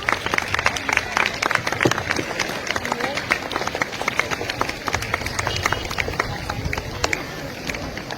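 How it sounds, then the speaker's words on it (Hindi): Loud, dense clapping from a crowd of schoolchildren at a high school Independence Day ceremony, sustained and energetic throughout with scattered voices mixed in. "जोरदार तालियां बच्चे जोरदार तालियां"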